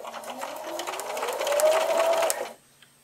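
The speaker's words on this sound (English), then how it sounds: "Pivot 90 degrees and put your presser foot back down and continue sewing." A sewing machine stitches a wavy table runner in a steady whirring run that rises slightly, then stops abruptly, leaving near silence.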